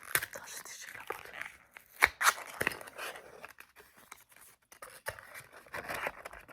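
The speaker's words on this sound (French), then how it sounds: "Attends, je déchire la boîte." A cardboard box is torn open by hand in a quiet ASMR setting, with close, irregular ripping, crunching and scraping bursts, while a voice speaks softly at times.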